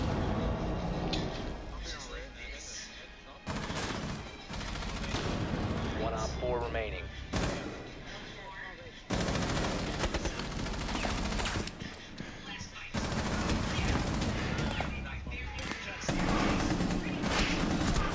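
Video game gunfire comes in bursts of rapid shots and heavy bangs, loud and dense across the whole stretch, with a player talking over parts of it.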